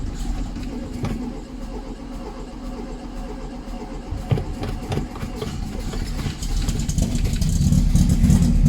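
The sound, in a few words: 1974 VW Beetle engine running after sitting for years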